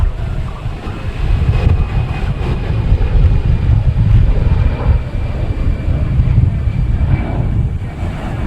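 Airbus A319 airliner at Boston Logan Airport: a steady, loud low roar of jet engines with wind buffeting the microphone, holding constant throughout with no voices.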